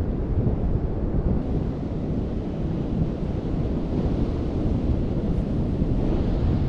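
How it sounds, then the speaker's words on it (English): Strong wind buffets the microphone at Corrimal Beach on an overcast day, a loud continuous roar with possible surf blended in and no voices. "It's quite windy and the sun's not out"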